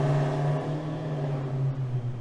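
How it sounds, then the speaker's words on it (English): Loud cars pass along a street, a steady engine drone with a strong low hum that holds level throughout, close and continuous with no talking. "Loud cars everywhere."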